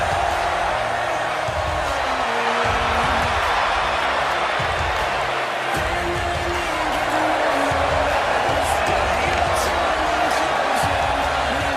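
A wrestling arena crowd cheers and applauds a newly crowned women's champion, a dense, sustained roar of many voices with scattered claps and thuds throughout.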